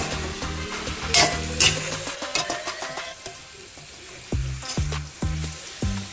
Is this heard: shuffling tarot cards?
no